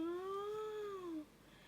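A single drawn-out cat meow, close and clear, rising then falling in pitch over about a second before fading to quiet room tone, with no talk.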